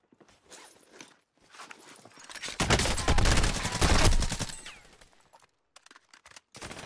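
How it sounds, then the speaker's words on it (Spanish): Bursts of rapid gunfire in the shooter game Call of Duty: Modern Warfare, building into a loud, dense barrage in the middle before tapering off into scattered shots and quieter game noise. "¡Me están disparando!"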